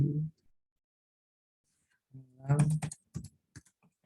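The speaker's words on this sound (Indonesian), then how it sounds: "setelah diedit ketik enter" Keys clicking on a computer keyboard, including the Enter key, come as a few quick, close taps near the end, after a brief voiced sound and a stretch of near silence.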